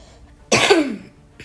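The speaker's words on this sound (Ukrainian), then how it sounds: "Пробачте, перепрошую, я трошки захворів. Через це кашлюю." A single sharp, close cough from a man who has a cold, one harsh burst that fades quickly, with a faint sound just after.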